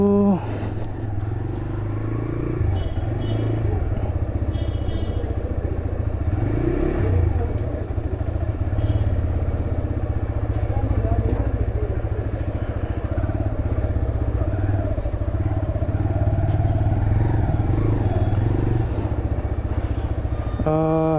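A 2025 TVS Raider 125 motorcycle on a test ride, its engine droning steadily with a low rumble and road noise throughout, a voice talking faintly under it.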